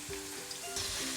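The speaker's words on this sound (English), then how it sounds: "So the key to frying this cauliflower is not to overcrowd the pan." Cauliflower florets for Gobi Manchurian deep-fry in hot oil in a wok, giving a steady, close sizzle with crackling bubbles and no talking.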